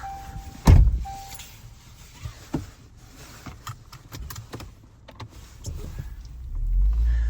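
A person getting into a car on a quiet residential street: a sharp door thunk near the start, then soft shuffling, small clicks and rustles inside the car, with a low rumble building near the end.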